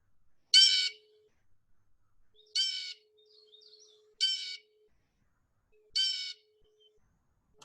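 A recorded adult male blue jay call played back four times in a row, each a short harsh jeering burst separated by pauses of about a second or more, clear against a quiet background with a faint steady tone.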